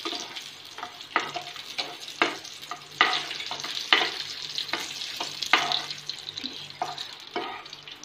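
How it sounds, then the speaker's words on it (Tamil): Raisins fry in ghee over a low flame, giving a steady soft sizzle broken by repeated stirring scrapes and clinks at close range, with no talking. "இப்போ லோ ஃப்ளேமில் வச்சு நல்லா திராட்சை கோல்டன் ப்ரௌனாக ஆக்கிக்கோங்க."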